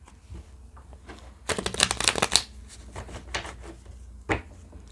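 Tarot cards are shuffled by hand in a quick burst of riffling, close and fairly loud, with a single softer card tap following a moment later.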